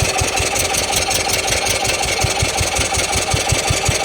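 A 1996 Par Car golf cart engine runs after its carburetor was cleaned, chugging loudly and close in a fast, uneven rhythm of low pulses with a rough knocking edge.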